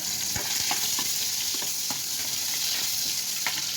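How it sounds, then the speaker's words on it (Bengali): Chopped onion and garlic fry in a wok with a steady, bright sizzle while a spatula scrapes and stirs, producing regular soft clicks over the continuous hiss. "এখন এই যে আমি পেঁয়াজ আর রসুন কুচিটা দিয়ে দিলাম কড়াইয়ে।"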